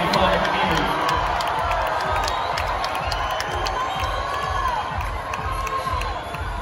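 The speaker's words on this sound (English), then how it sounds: "there's a lot of time for them to hear you cheer, Omaha" Spectators cheer and shout steadily at the 2021 US Olympic Team Trials swimming meet in Omaha during a women's 200 m breaststroke semifinal, a dense, continuous roar from a large indoor crowd with a commentator talking over it.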